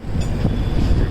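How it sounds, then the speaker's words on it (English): A train passes close by on the adjacent track of a Kerala railway line, a dense, steady low rumble of wheels and coaches running continuously for about a second with faint wind noise. "There's another train coming from the other side."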